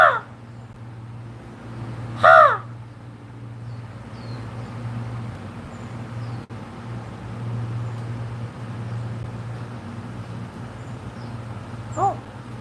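Crows caw overhead outdoors: a few harsh calls, one loud and close near the start, the others fainter and farther, over a steady low hum with no talking.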